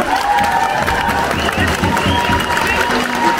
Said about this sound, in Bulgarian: Така че още веднъж аплодисменти за нея.